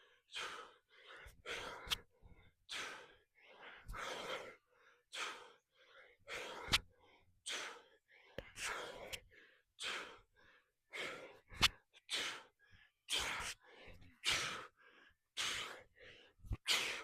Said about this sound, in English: Man, I'm struggling with breathing.